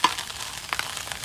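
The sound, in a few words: fish frying in oil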